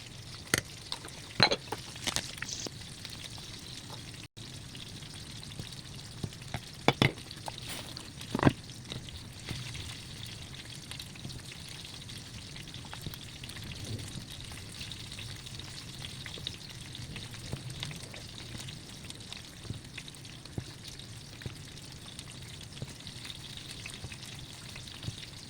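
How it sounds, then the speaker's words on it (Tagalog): Fish frying in a pan while porridge with squash cooks in a home kitchen: a soft, steady sizzle runs throughout with a few sharp clicks and clatters of utensils, no voices. "Pinalitan ko na rin dito yung piniprito kong isda."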